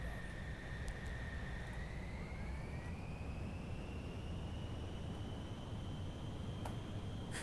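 Fighter jet taking off in Ace Combat 6, a steady engine roar with a whine slowly rising in pitch, continuous and fairly even, heard alone without talk.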